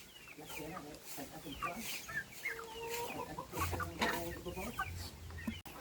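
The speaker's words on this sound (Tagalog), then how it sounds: "Mga pabo at saka manok." Chickens and turkeys on a farm cluck and gobble in a busy, fairly faint chorus with overlapping calls, while people talk nearby.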